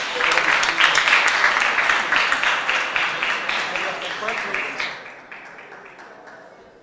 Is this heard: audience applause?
yes